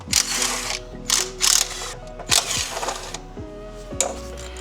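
A socket ratchet clicks rapidly in several short bursts while lower timing cover bolts are loosened on a Mitsubishi Evo 9 engine, close and distinct, with metallic ticking between pauses and no speech.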